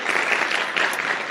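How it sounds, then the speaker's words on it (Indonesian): Brief burst of audience applause at a motivational talk, dense and even clapping from many people throughout. "tepuk tangan untuk Ibu Nur Ilham"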